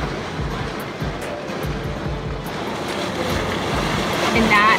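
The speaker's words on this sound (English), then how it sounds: "that's the tender from our ship" A cruise ship's tender boat moves across the water in Cabo harbor, with waves lapping, wind buffeting and a low rhythmic engine thrum throughout.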